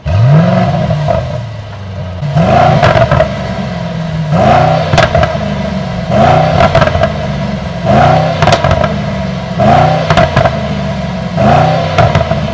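A 2025 Mercedes-AMG GLE 63 S Coupe's 603 hp V8 fires up with a rising whir and bark, then blips through a steady series of about eight sharp revs, loud and close, each swelling and falling back to a burbling idle.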